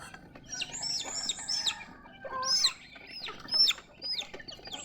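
A flock of backyard chickens in the morning, clucking and calling in repeated bursts close by, with faint chirps between, no talking.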